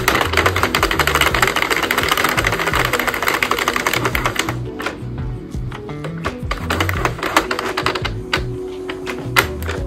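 Clattering, rapid mechanical clicking from a Sentro plastic hand-crank knitting machine as a row is knitted for a cropped tank top, steady and close, with the rhythm loosening and thinning in the second half.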